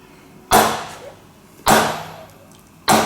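A hammer strikes a ceramic ball bearing in a torture test, landing three loud, sharp blows about a second apart, each ringing briefly before fading.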